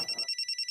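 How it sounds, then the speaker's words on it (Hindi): A telephone ringtone sounds as a brief, rapid series of evenly spaced electronic pulses, clear and close, with no voices. "फोन आ रहा है। फोन आ गया।"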